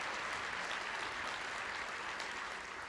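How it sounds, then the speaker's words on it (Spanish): A conference audience at Mario Vargas Llosa's lecture on liberty gives sustained applause welcoming journalist Álvaro Vargas Llosa, a continuous wash of many hands clapping, heard from a distance and fairly faint. "Estaremos junto al destacado periodista Álvaro Vargas Llosa, para quien también pido un aplauso."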